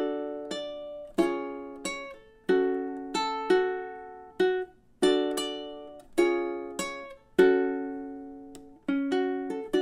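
A solo ukulele picks melody D of a song, a steady string of crisp plucked notes and short chords in a jaunty Halloween rhythm, close and clear with no voices.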